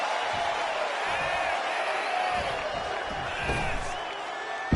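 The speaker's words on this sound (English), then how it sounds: "the Fiend is channeling the energy of this crowd" Virtual wrestling arena crowd from a WWE 2K game, a constant roaring murmur of fans with rising whoops and scattered cheers, a sharp slam-like burst near the end, with a commentator talking over it.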